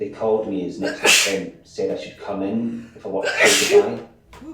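Two sharp, loud sneezes burst out between lines of a man's speech, each a quick explosive blast.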